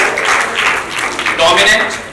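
A crowd claps steadily for a couple of seconds, a dense patter of hands with voices talking over it.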